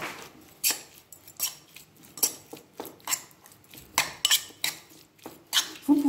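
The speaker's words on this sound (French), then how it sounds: "Et je vais mélanger tout ça." Seasoned chicken pieces are tossed with five-spice in a bowl, giving repeated wet squishes and utensil clacks against the bowl in an uneven rhythm, close and moderately loud, with no talking.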